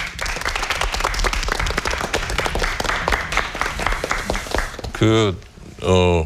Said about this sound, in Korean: 박수로 청해 주십시오